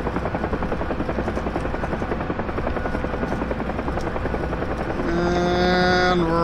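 UH-1H Huey helicopter in DCS World flying toward a helipad landing, its steady loud rotor chop and turbine whine filling the whole stretch, with a rising tonal whine layered in near the end.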